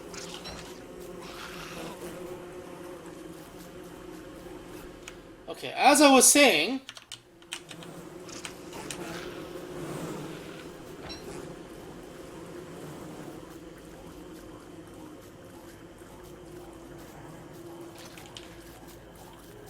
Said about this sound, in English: That would have been 10 times worse if it was like an actual wall of killer bees.